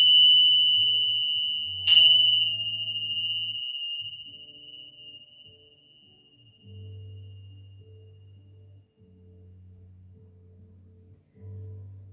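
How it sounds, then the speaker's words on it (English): A bell is struck once during a chair yoga relaxation. Its bright tone rings out and slowly fades over low, steady sustained tones, with no voices. "Let your mind, your body, and your soul absorb the vibrations of the bells"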